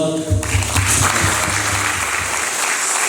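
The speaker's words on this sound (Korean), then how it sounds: "우리 시장님께 박수 한번 부탁드릴게요" An audience at a civic association general assembly and volunteer group launch ceremony in Ansan applauds for the mayor, a steady burst of clapping filling the hall.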